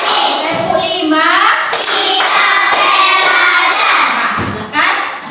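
Children in a classroom clap in counted rhythm as a teacher leads them, sharp bursts of claps falling in groups between lively voices calling out the count, close and loud.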